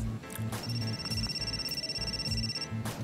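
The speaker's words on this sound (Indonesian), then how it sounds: "Ntar Neng, ada telepon." A telephone rings in a small jamu (herbal drink) shop, a steady electronic ringtone tone sustained over a repeating beat of background music.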